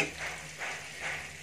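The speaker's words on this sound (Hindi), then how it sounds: "देखिए अब इसको मैं सबसे पहले इसमें फ्राई करूँगा, करीब 3 से 4 मिनट इसको फ्राई करना है।" A paste of tomato, onion and garlic fries for pav bhaji, sizzling softly with gentle stirring swells that rise and fall in a slow rhythm; no voices.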